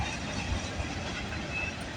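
A freight train rolls past on a CN/CP line in Milton, Ontario, a steady, close rumble of rail noise with no clear breaks.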